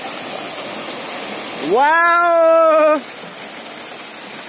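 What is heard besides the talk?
waterfall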